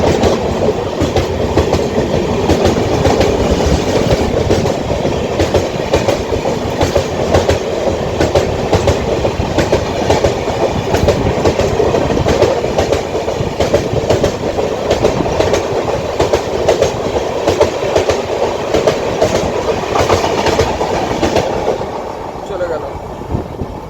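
The New Delhi–Howrah Duranto Express running on the tracks, heard from inside the carriage as a loud, continuous rumble with rhythmic clickety-clack of wheels over rail joints, sustained for the whole stretch and easing slightly at the end.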